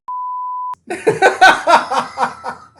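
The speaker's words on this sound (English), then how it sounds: "It's just gonna end going beep." A single steady electronic beep lasting under a second, then a brief pause before several people burst into loud laughter and shouting.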